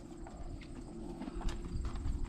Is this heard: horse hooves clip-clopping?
yes